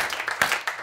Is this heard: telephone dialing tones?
no